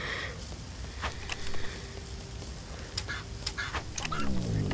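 A chicken in a video game lets out a series of short squawking, honk-like calls, scattered and moderately loud over a busy game background.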